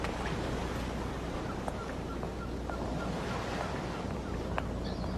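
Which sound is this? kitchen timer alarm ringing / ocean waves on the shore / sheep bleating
ocean waves on the shore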